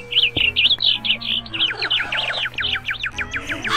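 Birds chirp in the Minecraft video game in a lively run of rapid, repeated high tweets and trills, close and clear, with no talk.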